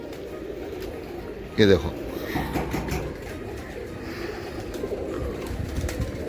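Pigeons cooing at the home of a Hindi-Urdu pigeon-keeping ustad, a brief loud burst of low throaty coos near the mic, with someone speaking over a steady background.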